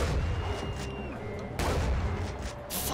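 Gunfire in the video game Far Cry 4, a steady loud barrage of low booming shots with a sharp burst near the middle, under occasional game noise.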